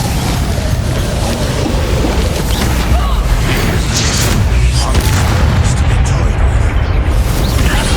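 A fiery Incendio spell blast roars in Hogwarts Legacy, a loud, dense wash of burning rumble and bursts filling the whole stretch, with a voice shouting over it.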